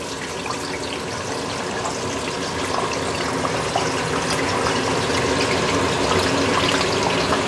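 Potato fries frying in a small batch of hot oil, a steady, dense bubbling and sizzling hiss that holds at an even loudness throughout with no voices.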